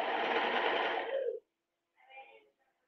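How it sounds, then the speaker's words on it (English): A sewing machine doing two-needle hemming on flared leggings runs steadily for over a second, then stops, followed by a brief quieter burst of stitching. "then we're gonna have to do some two-needle hemming"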